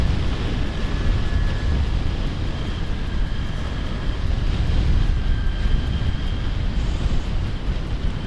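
A TVS Ntorq Race XP scooter pulls hard along an empty, clean morning road, its engine a loud, steady drone buried in heavy low wind rumble that holds unbroken throughout, with no voices.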